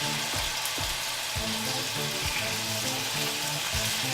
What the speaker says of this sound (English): Let them cook on high heat in the oil.